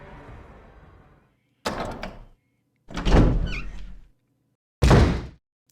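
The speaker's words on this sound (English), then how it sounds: "This is what it's like to enter a door in Resident Evil." Door opening in the survival horror game Resident Evil: a creaking, rumbling transition built from three separate heavy thuds and scrapes spaced over several seconds, loud and alone with no talk.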